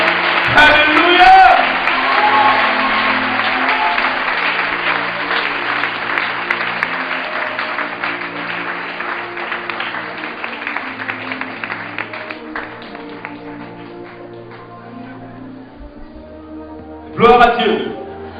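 Church congregation applauding and cheering as a pastor arrives, a steady crowd clap lasting most of the stretch under a held musical drone, fading toward the end before a brief loud burst.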